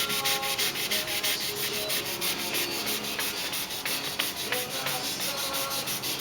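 Steady rhythmic wet sanding on the paint of a 2008 Corvette Z06 to remove scratches, a close, continuous back-and-forth rasping with no speech.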